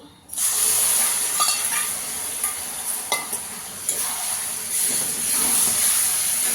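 Water lily stems for shapla bharta hit a hot pan and sizzle with a sharp, steamy hiss that runs steadily, along with light stirring clatter, close and loud.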